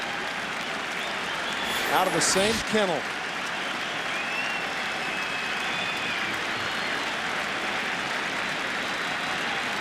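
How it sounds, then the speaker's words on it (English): A Yankees playoff baseball crowd fills the stadium with a steady roar of cheering and applause, swelling briefly louder for a moment while a commentator talks over the noise. "Crowd gets back into it with a count of 0-2."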